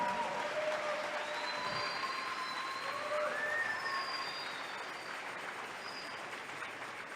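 Church congregation applauding during a sermon, a steady dense wash of clapping throughout, with a few faint high whistles or tones drifting over it.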